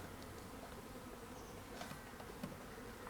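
A swarm of honey bees gathered by a pond hums with a continuous, dense buzzing drone, steady and enveloping, with a few louder passes from individual bees close by.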